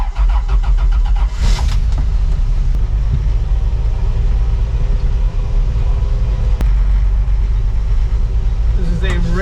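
A truck engine cranks and starts up loud and close, then settles into a running idle and pulls away, a steady rumble with brief clanks and a squeal near the end.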